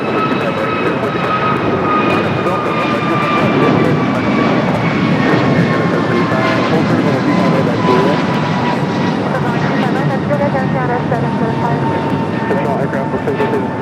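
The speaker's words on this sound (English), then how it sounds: "Next takeoff is a flight to Miami, an A321neo with American" An American Airlines Airbus A321neo bound for Miami takes off at LAX, a loud steady jet roar with a rising engine whine that holds for the whole stretch, with faint radio voices underneath.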